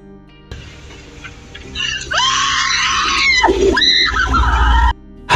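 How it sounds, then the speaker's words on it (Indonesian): A woman in a film scene screams in pain, with long, loud, shrill cries that waver and climb, a brief break between them, then a final scream that stops abruptly. "berteriak sekencang mungkin menahan rasa sakit dan siksaan"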